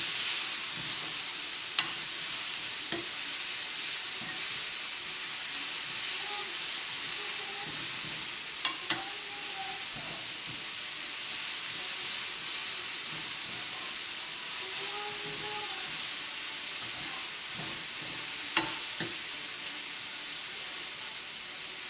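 Sliced leeks and tomatoes fry in a pan with a soft, steady sizzle, broken by occasional scrapes and clicks of a spoon stirring, fairly quiet and close with no voices.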